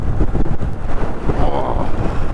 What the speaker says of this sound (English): Oh my word, that was windy.